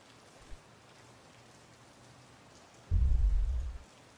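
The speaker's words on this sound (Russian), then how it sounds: "Несмотря на то, что дождь идет, несмотря на то, что молния" Rain falls steadily over a metal surface at a brick house construction site, a soft constant hiss, then a low, heavy rumble of thunder swells near the end and fades after about a second.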